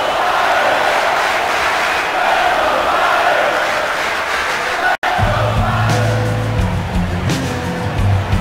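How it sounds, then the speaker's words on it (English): Arena crowd roaring and cheering in the UFC Undisputed 3 video game, a dense, steady wash of noise throughout, with booming low sounds entering after a brief cut halfway. "Anderson Silva, fired up and ready to give the crowd what they came to see."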